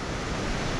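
Water from a hot spring stream in Sikkim rushes hard after heavy rain, a loud, dense, continuous roar close to the listener with no break.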